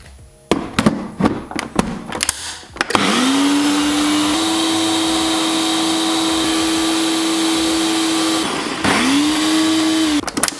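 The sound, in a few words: blender blending vegan basil pesto sauce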